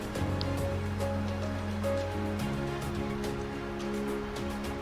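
A river flows in a steady, soft, continuous rush beneath calm, sustained relaxation music.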